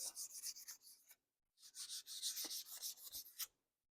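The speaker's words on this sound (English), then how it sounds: "Just sand it a little bit." A Remington 572 wooden gun stock being sanded by hand, close rhythmic rasping strokes in two bursts separated by a brief pause, quiet and with no talk.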